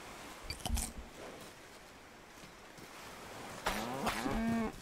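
A cow in a video game moos clearly, a low drawn-out call near the end, after a brief earlier lowing sound over faint background noise.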